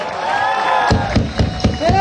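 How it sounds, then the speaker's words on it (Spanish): Cheers and crowd noise rise at a Mérida zombie walk for a costumed zombie, with several loud thumping bursts near the microphone cutting through the steady shouting. "¡El aplauso para esta hermosa"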